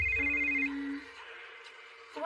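Telephone ringing in an English-dubbed anime, a steady electronic ring tone sounding loudly and continuously before cutting off near the end.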